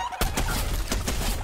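Chickens cluck in the video game Fortnite, a run of loud, close fowl calls with a few sharp repeated bursts over a dense, steady game background.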